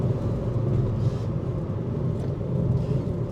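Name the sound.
Ford Fiesta ST Mk6 engine while driving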